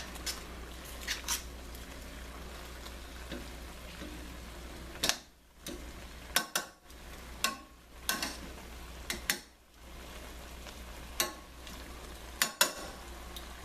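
Shrimp and spinach cook over a very high flame in a pan, giving a steady low sizzle with scattered sharp ticks and scraping stirs, with no talk.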